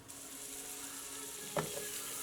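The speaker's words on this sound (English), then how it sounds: "sear that onion just in a little bit of the oil that was left" Thick slices of a whole onion sear in a little leftover oil in a pan, a soft, steady sizzle running throughout with one brief clink near the end.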